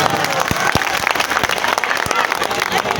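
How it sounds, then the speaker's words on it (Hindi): A crowd at a political rally in New Delhi bursts into loud, sustained applause, dense overlapping clapping with a few sharp individual claps standing out, close and continuous for the whole stretch. "एक बार जोरदार ताली अपने लिए बजा दीजिए सब लोग।"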